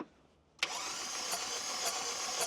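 A 2019 Hyundai Elantra engine with a suspected fault catches after a short quiet moment, then roars steadily with the throttle held flat to the floor, loud and close with no letup.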